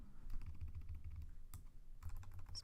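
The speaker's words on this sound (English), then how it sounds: "I'm typing a bit rough here." Rough, uneven typing on a computer keyboard during Java programming, close and fairly quiet, with clusters of clicky keystrokes separated by short pauses.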